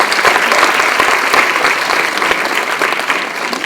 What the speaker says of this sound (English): Will you clap and say, yes, we will follow our dreams?